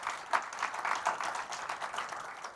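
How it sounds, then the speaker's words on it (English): An audience at a startup accelerator demo day applauds eight finalists, with dense, steady clapping from many hands filling the room throughout. "let's give a final round of applause for our 8 finalists"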